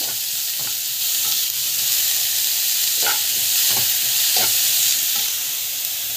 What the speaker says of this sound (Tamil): பெருங்காயம், கல்லுப்பு நல்லா வதக்கிக்கோங்க.